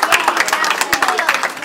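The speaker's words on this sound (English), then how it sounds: "Let's give both a big round of applause." Audience applauding volunteers as they come up on stage, dense rapid clapping from a crowd with some voices and chatter mixed in.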